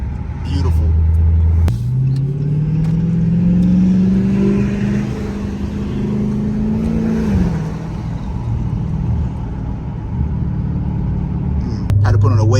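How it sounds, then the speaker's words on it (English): Dodge Charger Hellcat with a mid-muffler delete and 5-inch tips, deep rumbling exhaust that rises in a long rev then drops back to a loud burbling idle, with a voice talking over it. "That's a crazy sound. Very aggressive. Simple mid muffler delete."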